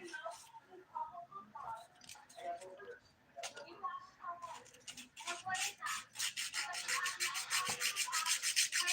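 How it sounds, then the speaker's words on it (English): Fingernails are filed during a dip powder manicure, giving soft, quick scratchy strokes close to the mic. The rasping grows steadier and more rapid toward the end, with people talking quietly over the first half. "I feel like filing is going slow today."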